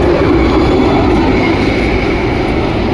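A train pulls into Katpadi railway station, a loud, steady rumble of wheels and carriages that dominates throughout with no voices.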